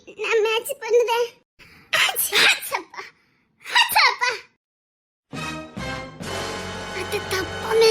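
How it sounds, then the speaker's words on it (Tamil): A young woman sneezes amid a lively family conversation, the sneeze breaking out sharply between bursts of chatter, followed by a jumble of loud voices and background music. "என்ன மறுபடியும் தும்மல் வருது."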